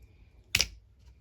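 Scissors cut off a tangled thread in a single short, crisp snip, close by and fairly quiet against a soft background hush.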